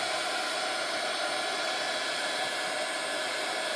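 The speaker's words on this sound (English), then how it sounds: "We're going to run this heat gun for a minute and see what happens when we dry this mica powder" A heat gun blows steadily to dry mica powder mixed into texture paste, giving a continuous, loud, broadband airy rush that holds even and unbroken with no voices.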